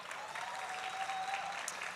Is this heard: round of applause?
yes